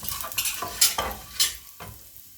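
Green chilies fry in hot oil in a pan alongside cinnamon, cardamom, ginger and cumin, with quick sizzling bursts and a few sharp scrapes of a stirring spoon, close and loud, no talk.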